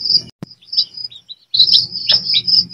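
Two chicks of a dumpo malay gamefowl cross give high, thin peeping chirps in quick bursts, close by and alone, with a brief pause between runs.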